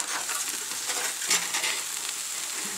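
Hash sizzles and crackles steadily in a hot frying pan, close and fairly loud, with occasional scraping stirs and no talking.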